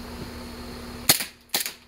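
Two sharp gunshots at outdoor target practice, about half a second apart, loud and close with short decaying tails over a faint steady background hum.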